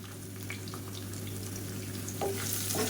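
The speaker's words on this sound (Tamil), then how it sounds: "இது எல்லாமே நல்லா வதக்கி வச்சுக்கலாம்" Chopped ginger, garlic and green chili fry in hot oil in a pan, giving a steady close sizzle with a few scraping stirs toward the end.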